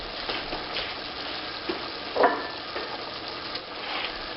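Seafood gumbo stirred in a pot, a steady soft sizzle and scraping churn running throughout with a few louder stirring strokes, close and alone with no talking.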